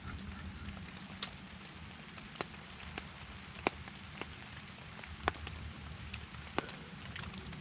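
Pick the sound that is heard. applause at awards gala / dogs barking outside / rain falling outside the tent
rain falling outside the tent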